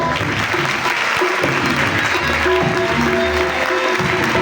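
A crowd claps loudly and continuously, dense applause filling the room without a break.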